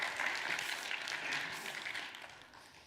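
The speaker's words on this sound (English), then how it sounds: "round of applause" Audience applause at a church talk, a quiet, distant wash of clapping that fades out toward the end.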